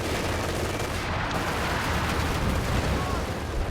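Massed infantry rifle and machine-gun fire crackles without pause in the World War II strategy game Company of Heroes 2, a dense, loud, continuous barrage with some speech under it.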